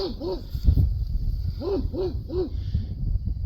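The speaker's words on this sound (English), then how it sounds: "That happens to be the neighbor's dog." A neighbor's dog barks outdoors near a backyard garden with young peach trees, giving about five deep, drawn-out woofs in two groups at moderate distance over a low background rumble.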